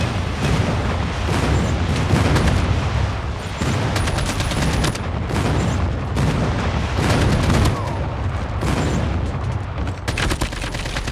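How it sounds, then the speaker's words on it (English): Loud, close barrage of airstrike explosions and rattling gunfire in a Call of Duty match, booming blasts in repeated dense bursts with brief gaps, continuing heavily throughout. "Friendly airstrike incoming."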